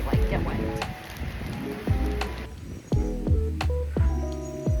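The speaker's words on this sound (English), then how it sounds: "I don't want to be outside in this rain." Rain falls outdoors in Gapyeong, Korea, with close, pattering drops striking a surface in an irregular rhythm over a steady wet hiss.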